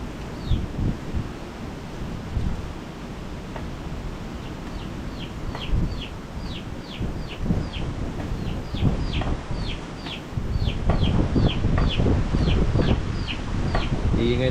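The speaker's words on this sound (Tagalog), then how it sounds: "Iingay ng sisiw na to" Chicks peep in a rapid series of high, thin chirps close by, repeated through most of the stretch, over rustling and low outdoor background with some clucking fowl.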